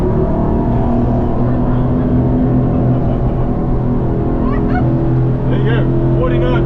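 A SAY 42 carbon yacht powers up from about 30 knots, its deep engine and hull drone steady and loud throughout, with a voice briefly audible over the roar.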